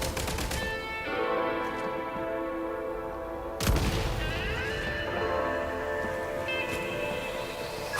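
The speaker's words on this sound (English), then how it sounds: "Shoot the explosives to detonate them and clear the path." Gunfire and detonating explosives in a shooter video game: one sharp, heavy blast cuts through midway over a steady tonal game soundtrack, with other weapon reports faint beneath it.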